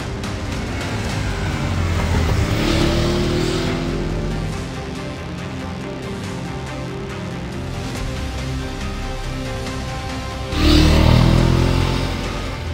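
An Aprilia Tuareg 660 motorcycle engine hums steadily as the bike sets off and rides, its tone rising and falling with throttle changes and a louder surge near the end.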